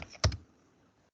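A short burst of a few quick keystrokes on a computer keyboard while a PowerShell command is typed, close and fairly quiet, then near silence.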